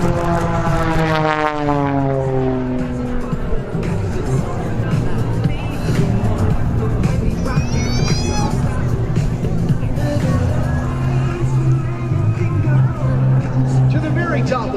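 An Extra 300 aerobatic plane flies at the Boundary Bay Airshow, its propeller engine droning loudly and steadily with shifting pitch as it climbs, stalls and rolls, under an announcer's commentary and crowd murmur.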